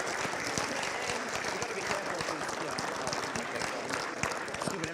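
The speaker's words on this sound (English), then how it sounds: "So can we have a round of applause, guys," Spectators at a secondary school cup final applaud the referees with a steady, even round of clapping, moderately loud, and some voices mix in underneath.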